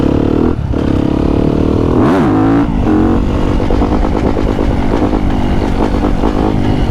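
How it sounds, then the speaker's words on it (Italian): A supermoto motorcycle engine revs loudly and close, with sharp throttle blips early on, then settles into a rapid, rough pulsing idle. "C'era la moto dietro, non sentivo che era accesa."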